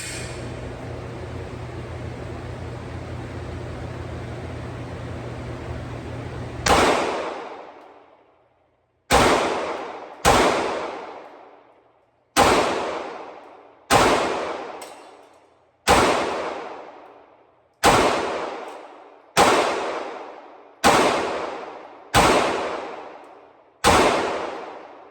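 About a dozen sharp, loud gunshots from a Springfield Hellcat Pro pistol at a shooting range, fired one at a time at an uneven pace, each ending in a short echoing decay, after several seconds of steady background noise.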